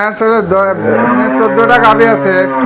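Dairy cows on a farm in Shahjadpur, Sirajganj, low repeated moos, loud and close, overlapping one another in a steady stretch with no talk.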